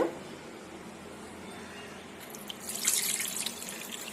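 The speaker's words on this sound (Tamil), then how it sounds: "தண்ணி வந்து கொஞ்சம் கூட இல்லாமல் வடிச்சிடணும்" Water drains off soaked rice in a kitchen while a traditional Tamil sweet, ukkali, is prepared. Faint trickling runs throughout, then a brighter splashing, tap-like pour rises near the end.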